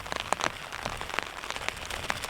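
Heavy rain patters on a camp at the top of a mountain, a dense, steady spatter of drops with sharper individual hits scattered through it.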